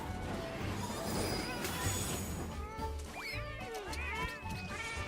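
Cats meowing in a Monster Hunter Rise cooking cutscene, several bright, bending meows rising over a dense bed of kitchen clatter and game music, loud and close.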